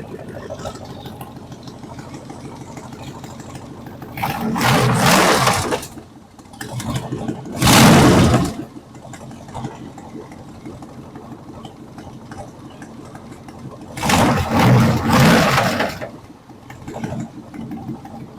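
A 2002 6.0-litre LS engine idles with a steady low rumble on a test stand, a continuous even drone interrupted by a few louder bursts of broadband noise, close and fairly loud.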